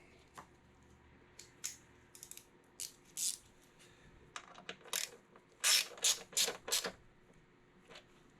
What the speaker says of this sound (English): Then I'll just take my ratchet